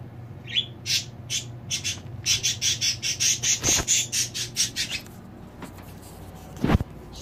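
Caged birds chirping in a quick, regular run of sharp, high calls close by, with a couple of dull knocks near the end and no talking.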